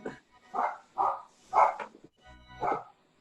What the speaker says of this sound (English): Now Sarah's about to start barking because she hears them barking